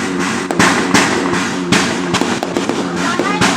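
Fireworks burst in a rapid series of sharp, loud bangs and crackles at irregular intervals, one report following another over a constant background rumble.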